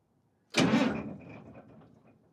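The engine of an abandoned Caterpillar SS250 soil stabilizer is cranked once, a sudden loud burst of mechanical noise that fades away over about two seconds, with no speech.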